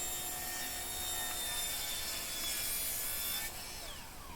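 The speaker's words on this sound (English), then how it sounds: "While I was still at the miter saw, I set a stop for the width of my shelves and cross-cut the faces and fronts" A miter saw cross-cuts wooden shelf stock, a steady whining rasp of the blade through the wood held at an even level for about three and a half seconds before easing off as the cut ends; close and loud, with no voices.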